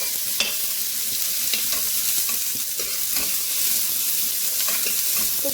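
Peppers and onions frying over very high heat for sweet and sour chicken, giving a steady, loud broadband sizzle with occasional stirring scrapes and clicks throughout, no talking.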